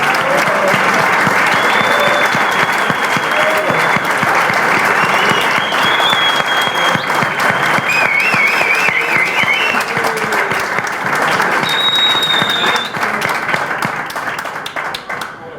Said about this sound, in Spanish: me haga de nuevo un aplauso a Lucas, a José y a todos los otros.